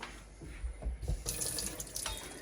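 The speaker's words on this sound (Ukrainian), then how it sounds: "Цю сіль під проточною, холодною, знову нагадую, водою промиваю." Cold tap water runs steadily from a faucet as salted salmon is rinsed under it, a close, continuous splashing stream that swells louder partway through, with no talking.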